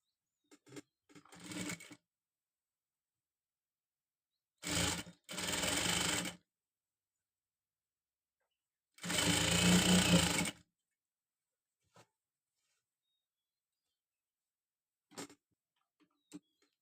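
A sewing machine stitches lace onto a blouse in three loud bursts of rapid whirring, separated by quiet pauses with faint clicks and taps between runs.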